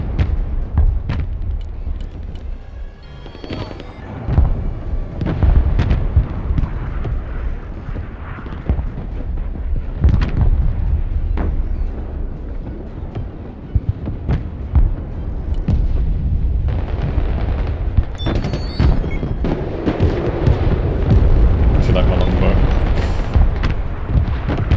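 Artillery barrages in the Broken Arrow video game, with repeated heavy booms and rumbling explosions rolling continuously at close range, loud and dense, and a voice speaking briefly among them.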